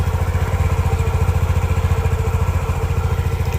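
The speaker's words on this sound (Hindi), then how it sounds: "ये गाड़ी स्टार्ट हो चुकी है, इसका साउंड सुन लो पहले तो आप।" A TVS Jupiter scooter idles close by with an even, rapid putter and a loud, steady rhythmic pulse throughout, and no voices.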